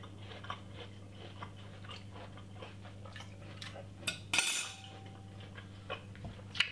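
Someone eats a garlic and broccoli salad with lime juice: soft crunchy chewing and light cutlery clicks over a steady low hum, with one sharper clatter partway through. No voices.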